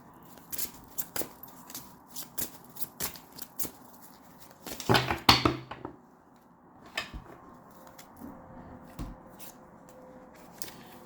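Oracle cards handled and shuffled in a quiet room, a run of soft papery riffles and taps with one louder burst of rapid card flicking midway, no voices.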